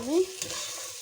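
Chicken pieces and washed rice being stirred and fried together for desi chicken pulao, a short scraping stir with a brief tonal squeak at the start, then a steady soft sizzle, close and alone.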